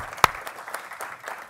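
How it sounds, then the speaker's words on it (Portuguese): Brief, scattered clapping rises from an auditorium audience at a space science session of a science conference, with a few sharp individual claps over a soft wash of applause. "eu gostaria de pedir à sala uma salva de palmas para todos os palestrantes"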